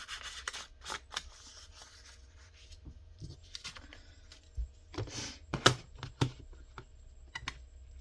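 Scissors snipping paper ephemera into smaller pieces, a series of quick, close, crisp cuts and paper rustles in irregular bursts against a quiet background.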